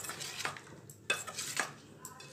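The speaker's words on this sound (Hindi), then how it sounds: "उसके बाद मिर्च और प्याज को इसके अंदर में डालकर इसे मिला लेंगे, मसाले के साथ में मिला लेंगे अच्छे से।" Onion, capsicum and spices being stirred together in a bowl with a spoon, a few soft scraping and clinking strokes spaced apart, quiet and close with no talk.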